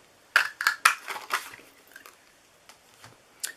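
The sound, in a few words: 1-inch circle punch punching out paper circle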